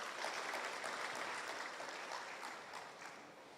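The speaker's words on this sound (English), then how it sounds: "Please give him a loud round of applause as he comes." Audience applause at a university open day and job fair in Guyana, welcoming a speaker to the stage; a steady, faint patter of clapping that gradually thins and fades toward the end.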